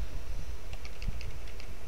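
Computer keyboard keys clatter in a quick irregular run of clicks while Capcom vs SNK is played on a keyboard instead of a joystick, close and fairly loud over a steady low background hum.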